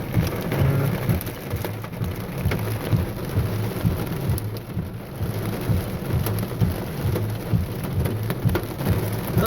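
Heavy rain and pea-sized hail pound down steadily in a strong thunderstorm in Reno, Nevada, a dense, loud, continuous roar with low rumbling underneath and no voices.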